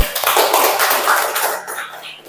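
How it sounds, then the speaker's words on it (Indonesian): Children in a classroom clap their hands together in a dense, steady patter lasting a couple of seconds, with voices mixed in underneath and the clapping fading toward the end. "Ya, tepuk tangan dulu."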